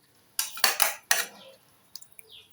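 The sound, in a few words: covering pot of banana stem curry with lid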